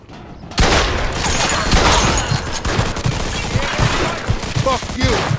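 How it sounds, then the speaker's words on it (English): Rapid gunfire erupts in a Mafia II shootout, with a dense string of close, loud shots and impacts popping in quick succession after a brief quiet start. "Look out, he's got a gun!"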